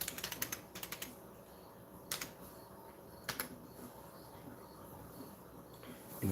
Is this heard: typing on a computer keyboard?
yes